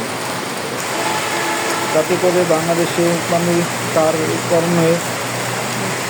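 Heavy monsoon rain in Madaripur, Bangladesh, keeps up a steady, dense hiss beneath a man's continuous speech.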